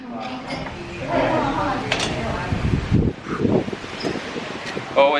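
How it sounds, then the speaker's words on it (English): Buffeting wind rumbles into the microphone outside a Singapore apartment, low gusty blasts mixed with rustling, while someone talks underneath. "Oh, it's windy. No wind protection here."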